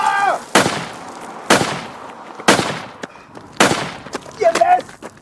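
Four loud, sharp bursts of gunfire ring out about a second apart in a wartime audio drama, each followed by a brief decaying tail, with a faint warbling tone near the end.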